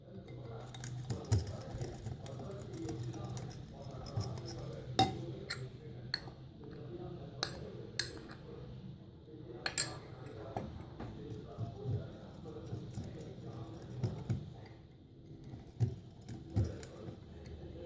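Sponge cake batter being stirred in a bowl, with soft irregular ticking and tapping of a spoon against the sides, faint and close, under a quiet background.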